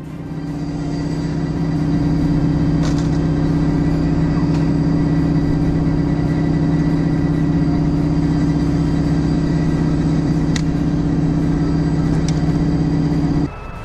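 Khrizantema-S anti-tank vehicle on a BMP-3 chassis, its engine a loud, steady low rumble throughout with a few faint clicks on top.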